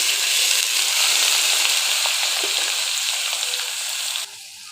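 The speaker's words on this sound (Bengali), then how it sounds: "রান্নার এ পর্যায়ে দিয়ে দিচ্ছি ভিজিয়ে রাখা ডাল" Soaked lentils dropping into hot mustard and soybean oil for Bengali masoor dal bhuna, with a steady loud sizzle and crackle of frying that cuts off sharply near the end, no talk.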